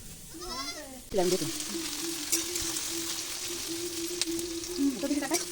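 Goat meat frying in a pan gives a steady close sizzle, with a goat bleating at the start and people talking softly over the cooking.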